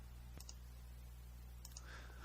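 Two faint computer mouse clicks, spaced more than a second apart, sound over a steady low electrical hum in a quiet room.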